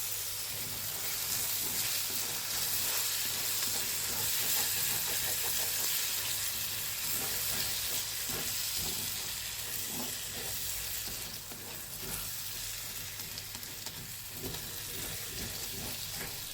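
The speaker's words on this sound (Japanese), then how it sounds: "玉ねぎは炒めて熱を加えることで" Onions sizzle and crackle steadily as they are stir-fried in a pan over lowered heat, a close, continuous frying hiss with occasional stirring scrapes and no voices.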